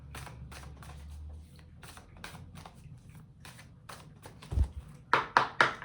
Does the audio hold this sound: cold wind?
no